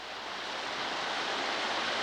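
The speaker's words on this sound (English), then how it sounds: "Water rushing over the stones as it comes down from the pond" A loud forest waterfall rushes over stones as water comes down from a pond in Maine, a steady, dense broadband roar close by with no break, alone without voices.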